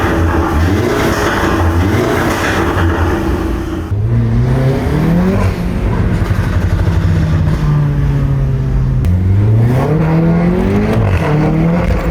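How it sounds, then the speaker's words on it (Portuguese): An auction-bought, once-abandoned Audi TT engine runs loud and close, repeatedly revving up and falling back to a steady drone, with no voices over it. "E o motor funcionando perfeitamente, como se nunca tivesse parado."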